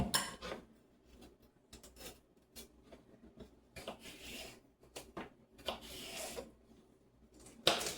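A knife chopping a small celery stalk finely on a wooden board, uneven bursts of scraping, rasping cuts with short gaps, close and quiet, no talking.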